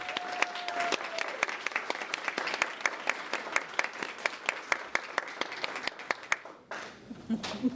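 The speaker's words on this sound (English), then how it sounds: "please welcome with a warm round of applause" Crowd at a women-in-business awards ceremony applauds warmly, a fairly sparse round of clapping with distinct individual claps standing out, fading near the end as the room quiets.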